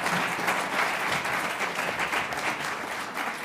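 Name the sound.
audience applause for a panel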